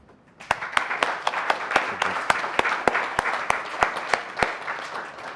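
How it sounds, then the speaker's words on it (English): Conference audience at a performing arts market opening giving a round of applause as a speaker is introduced, a sparse, fairly close run of individual claps in a steady rhythm over a room hiss, lasting several seconds. "Please give a warm round of applause to Mr."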